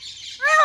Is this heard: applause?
no